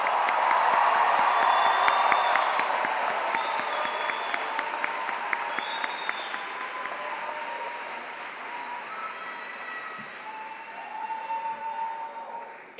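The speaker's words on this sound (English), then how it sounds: "One more round of applause for the DO class of 2026." Sustained applause from a large commencement audience honoring a graduating DO (osteopathic medicine) class, loud and dense at first, then thinning gradually with scattered claps, plus faint distant tones and a brief voice near the end.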